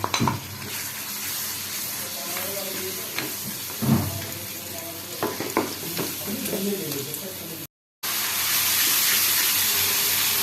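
Spice masala of chilli, turmeric, cumin and coriander powder with ginger-garlic paste frying and being stirred in a pan, a steady loud sizzle with scraping stir strokes, cut briefly by a gap near the end.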